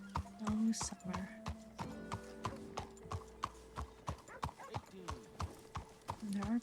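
Horses in a ranch roleplay video game clip-clop in a steady, close rhythm of hoof beats, with a short whinny near the start and end, while a person talks over them throughout.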